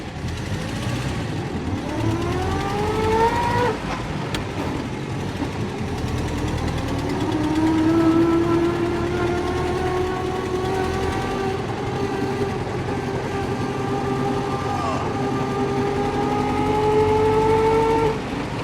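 A 99-year-old 1920s vintage car driving along, its engine droning and knocking loudly and continuously, pitch rising and falling with gear changes and road speed, no talking.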